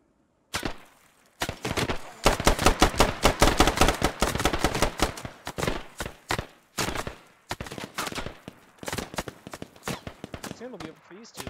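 Gunfire rattles from a firing line in the video game Squad: loud, close bursts and rapid volleys of shots. The firing is broken by brief pauses and runs on for about eleven seconds.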